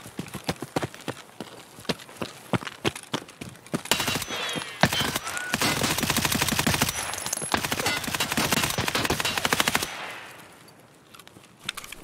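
Sustained automatic gunfire in Escape from Tarkov, suppressive fire in long dense bursts after scattered single shots, loud and close, then fading out near the end.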